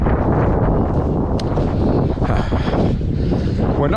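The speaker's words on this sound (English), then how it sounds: "Wind is picking up." Cold wind buffets the microphone outdoors on the way to the Ambrose rest area, a steady loud rumbling roar throughout with no letup.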